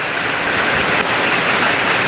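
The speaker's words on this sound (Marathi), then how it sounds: "पुन्हा पाऊस सुरू झाला आहे" Dense, steady hiss of heavy rain pouring down in Kerala, loud and close, a continuous broadband wash with no pauses and no voices.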